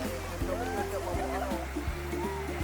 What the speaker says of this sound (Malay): Airnya dingin, bening, suara gemericiknya tu bikin hati senang.